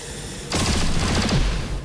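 A plasma gun fires in XCOM 2 as a loud, abrupt, rapid volley of crackling shots. The burst lasts about a second and a half and follows a low steady background tone, with no speech.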